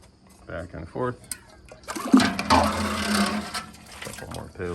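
Pails of water poured into a homebrew mash of dry grain, a loud splashing rush lasting a couple of seconds amid handling noise and low voices nearby.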